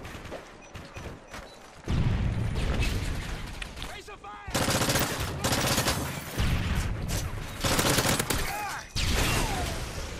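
Loud, close bursts of video game gunfire come in repeated volleys, with short gaps and a quieter stretch before the first heavy burst.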